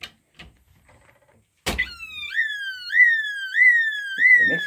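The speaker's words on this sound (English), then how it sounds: "You probably want to know what this sounds like, because it doesn't sound like any other alarm." A Hoover Thiefcheck alarm bellbox plugged into a power socket, starting after a sharp clunk and sounding a close, loud, repeating rising electronic whoop, like a fire engine siren, heard alone.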